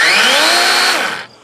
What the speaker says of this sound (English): here I went out and bought this DeWalt 12 incher, and this thing's actually a beast